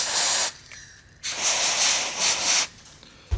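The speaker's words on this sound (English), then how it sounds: "That's also where freezing spray comes in." Freeze spray hisses from a can in several bursts, some long and some short, close and loud with brief gaps between, used while soldering microphone parts for an Apex 430 build.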